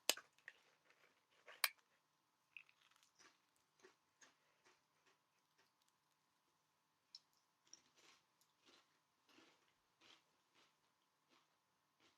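Crisps being eaten near a microphone, faint sparse crunches and small crackles scattered irregularly over a quiet background, with no voices.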